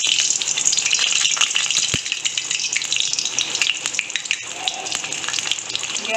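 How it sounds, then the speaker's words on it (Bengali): Stuffed pointed gourds (potol) dropped into hot oil and deep frying, a loud steady sizzle and crackle with a brief sharp pop partway through and no talking. "পটলগুলো ছেড়ে দিচ্ছি এক এক করে তেলে।"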